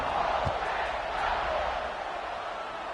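Dense roar of a stadium crowd buzzing between plays in a college football video game, a broad continuous wash of many voices, loud and steady with no single voice standing out.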